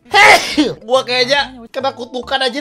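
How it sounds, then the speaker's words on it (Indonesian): A loud, close sneeze bursts out at the start and is followed by someone speaking casually; only one clear sneeze stands out. "gua kenapa jadi bersin-bersin anjir?"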